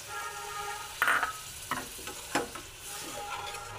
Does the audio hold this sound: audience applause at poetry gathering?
no